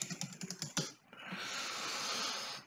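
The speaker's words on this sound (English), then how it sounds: "I'll type this one in." Quick, close clicking keystrokes on a computer keyboard in a quiet room, about a second of brisk typing that gives way to a steady soft hiss.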